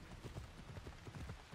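Horse hooves clip-clop at a steady trot in the video game Assassin's Creed Odyssey, a fairly faint but continuous rhythmic patter of soft thuds with no talk over it.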